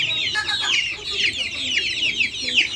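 A flock of backyard free-range chickens clucks and chatters constantly while eating, with many overlapping high, busy calls close by and a low background murmur.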